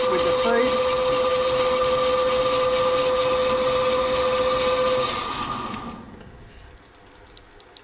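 A metal part being parted off on a lathe, cut into a Bantam gearbox drain plug: a steady, loud machining whine with a sustained tone. It cuts off after about five seconds, leaving faint clicks.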